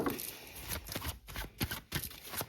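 Tarot cards being shuffled by hand, a close run of riffling, flicking bursts with brief pauses between them, fairly loud with no talk over it.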